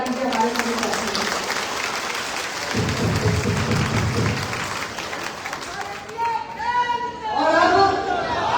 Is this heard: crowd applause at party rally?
yes